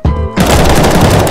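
Heavy automatic gunfire in the shooter game CS:GO, a loud sustained burst of rapid shots after a short lead-in, with no voices over it.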